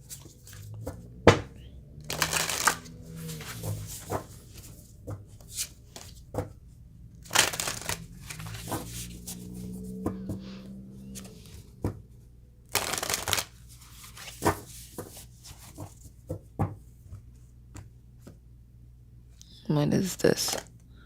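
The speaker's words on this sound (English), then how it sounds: "Let's pull some cards on this, please." Tarot cards are shuffled in several brisk riffling bursts with soft clicks and handling noises between them, close and fairly quiet, with occasional voice sounds in the background.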